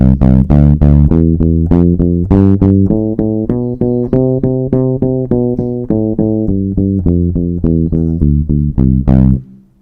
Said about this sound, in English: I want you to double up each note of the major scale.